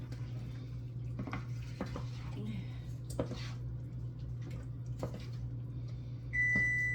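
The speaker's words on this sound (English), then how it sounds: "It's about to beep on my meatballs over there." A kitchen timer beeps for meatballs in a home kitchen near the end, a steady tone rising over the faint hum of a microwave-like appliance and light clatter.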